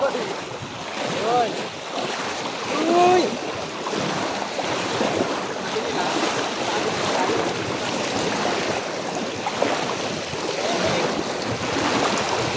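A strong river current rushes through a forest, giving a continuous broadband wash of water with gusty, windy texture, steady and fairly close throughout.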